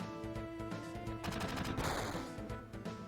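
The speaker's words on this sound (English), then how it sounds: "It's pooping bullets at me." Enemy gunfire in Final Fantasy VII, a dense stream of rapid machine-gun shots with a louder burst in the middle, continuous and close.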